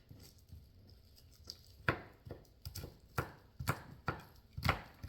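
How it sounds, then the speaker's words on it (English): A knife chops garlic on a cutting board for a home-cooked prawns and rice dish, giving a series of sharp, irregular thuds that grow steadier and closer together, heard alone in a quiet kitchen. "So chop up the garlic, because this is just going to be for flavoring"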